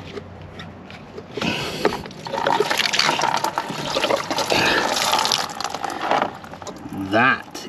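Coolant drains and splashes from the top hose of a Fiat 500, a steady liquid pour running for several seconds, close and fairly loud, ending with a short gurgle.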